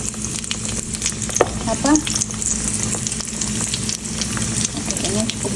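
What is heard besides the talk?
deep frying egg-coated arancini rice balls in hot oil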